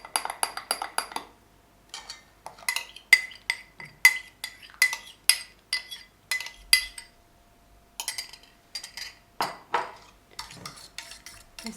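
Brioche dough is stirred in a bowl with a utensil, giving repeated clinks and scrapes against the dish in irregular bursts, close and clear, with no talk.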